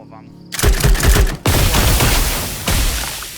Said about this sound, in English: You can fire these marbles one at a time, or you can just volley fire all of them.